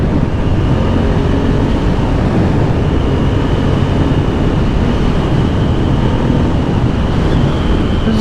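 A 2020 Aprilia Dorsoduro 900 motorcycle is ridden on the road, its engine a constant loud drone buried in heavy rushing wind noise that stays even and unbroken throughout.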